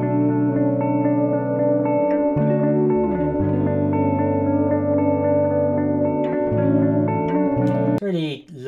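A melodic loop from a sample pack, a lush, sustained synth chord progression with shifting bass notes, chorus and reverb, playing loud and alone before cutting off near the end.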